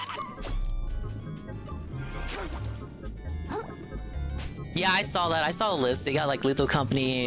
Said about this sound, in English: These guys, they bark like little doggies.